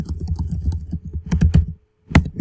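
Quick bursts of keyboard typing at close range, rapid clicking keystrokes in two runs separated by a brief pause, then a final single tap.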